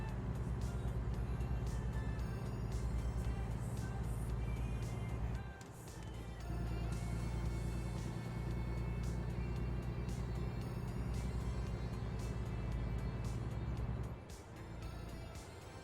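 A loud truck engine in American Truck Simulator labors steadily up a steep hill, with a brief dip midway and another near the end, no talking.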